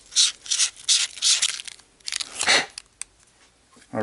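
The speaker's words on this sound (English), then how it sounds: "I'm just sanding off any of the burrs on the inside here." Short bursts of abrasive rubbing repeat in an uneven rhythm, close and fairly loud, as sandpaper smooths metal burrs inside an airsoft pistol barrel tip.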